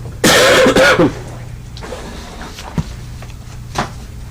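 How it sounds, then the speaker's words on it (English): A harsh, close cough or throat-clearing, followed by a few fainter coughs and small knocks over a low background hum. "He's coughing the whole time."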